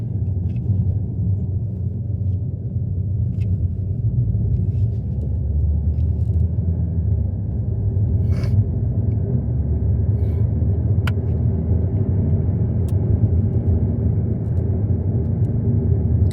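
A car rolls downhill on the mountain road descending from Juvasshytta, heard from inside as a steady low rumble of tyres and engine with faint clicks and rattles, no voices.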